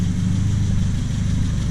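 A Triumph Spitfire engine fitted with a Weber carburetor idles with the hood off, a loud, steady low rumble with an even throbbing pulse close by, and no voices.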